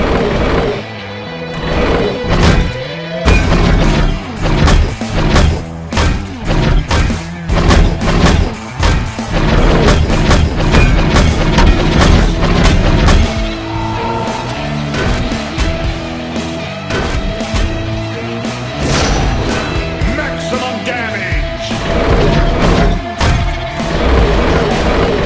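Heavy metallic thuds, crashes and booming hits as giant robots trade punches in the Real Steel robot boxing video game, loud and continuous with clanking mechanisms and a game soundtrack underneath.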